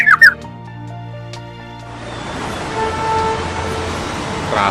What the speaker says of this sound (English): traffic jam,